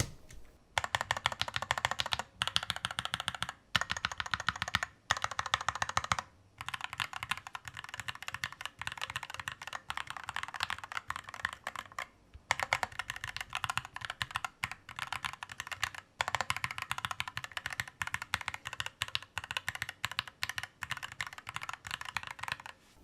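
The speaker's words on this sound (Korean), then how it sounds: "타건 소리 이제 한번 들어볼까요?" Rapid typing on a hot-swap mechanical numpad with lightly lubed Huano purple switches and a metal reinforcement plate, a crisp close clatter of keystrokes in quick bursts separated by short pauses, no talking.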